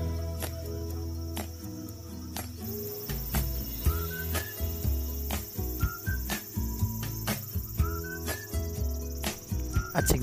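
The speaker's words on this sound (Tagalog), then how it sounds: "hindi lang sa Pilipinas matatagpuan ang crickets o kaya tinatawag na kuliglig. Meron din dito sa Japan guys." Crickets chirp steadily through a rice field in rural Japan, a dense outdoor chorus carrying on for the whole stretch alongside other field noise and scattered louder sounds.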